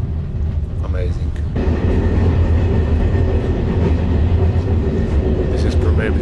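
A train rolls along its rails in Portugal on a cold day, a steady loud rumble with a constant rattling din that persists throughout, joined partway by a louder surge of noise.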